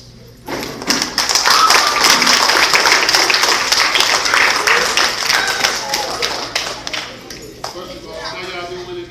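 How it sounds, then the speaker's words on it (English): A large outdoor crowd at a park event in Fort Lauderdale claps and cheers to welcome Rick Ross: dense, sustained applause swells quickly, stays loud for several seconds, then tapers, with voices mixed in. "give a big warm applause, round of applause"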